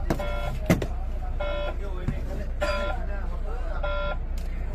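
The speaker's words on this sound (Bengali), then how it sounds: "হঠাৎ করে ফায়ার অ্যালার্ম চলে এলো মিটারে" A Volvo 9600 bus dashboard fire alarm buzzer sounds in repeated electronic beeping bursts, each lasting about half a second, over a low engine idle with a voice talking intermittently.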